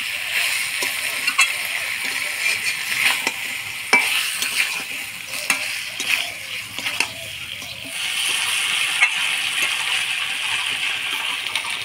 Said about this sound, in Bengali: এবার মাখায় রাখা মাংসগুলো দিয়ে দিই।